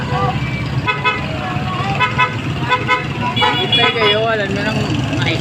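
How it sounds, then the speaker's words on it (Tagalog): Car horns toot again and again over the rumble of road traffic jammed by a broken-down beer delivery truck on a street corner, with people talking nearby. "Busina pa kayo ng busina."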